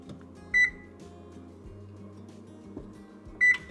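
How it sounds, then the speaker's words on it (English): Two short electronic beeps sound from an oven control panel while it is set to preheat to 325 degrees, one near the start and one near the end, over a quiet hum. "we need to preheat our oven to 325."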